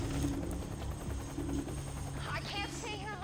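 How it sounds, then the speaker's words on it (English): Helicopter rotors thrum in a low, continuous chop under a dramatic scene, with voices and electronic sounds layered over the top. "Got helicopters."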